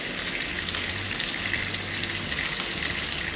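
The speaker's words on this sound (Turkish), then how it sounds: "Şöyle bir parça da tereyağı bırakacağım şöyle." Butter sizzles and fries steadily in a pan with sarıkanat fish, a loud, continuous crackling hiss with no talk over it.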